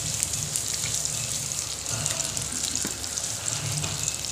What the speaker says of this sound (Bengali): আর এই সরষ তেলের মধ্যে পটলটা একটু লাল লাল করে ভাজিম।